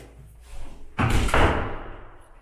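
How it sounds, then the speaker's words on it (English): Apartment building doors slam shut, two heavy close thuds in quick succession with a short rattling decay, loud and with no talking. "Sorry for the noise, but the doors make a lot of noise."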